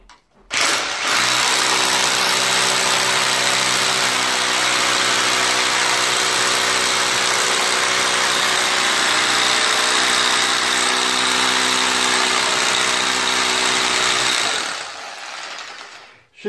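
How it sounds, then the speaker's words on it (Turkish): A power drill bores a hole into a wall to mount a curtain rod; its motor whines loudly and steadily for about fourteen seconds, then stops, with no talking. "Şimdi ben burayı deldim."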